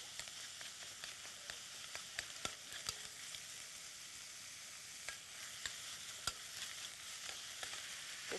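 Minced meat and onion sizzle steadily in a pan, a faint continuous frying hiss broken by small scattered crackles and pops, with no voices.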